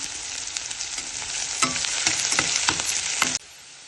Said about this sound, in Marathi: त्याचबरोबर कढीपत्ता हे छान असं भाजून घेऊया